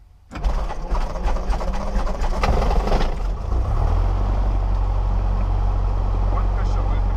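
A Cessna 172 piston aircraft engine cranks and catches about half a second in. It settles into a loud, steady propeller drone that deepens to a lower, even idle a few seconds later.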